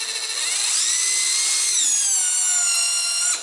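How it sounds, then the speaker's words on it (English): Makita right angle cordless drill driving a torque drive fastener into wood without pre-drilling, a steady high whining motor that rises slightly in pitch as the screw sinks, loud and close, ending abruptly. "Plenty of juice to drive right through wood."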